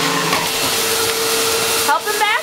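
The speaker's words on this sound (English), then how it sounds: "Help me vacuum" A household vacuum cleaner runs steadily and loudly indoors with a continuous droning whine, and a short high-pitched squeal or whine from a dog near the end.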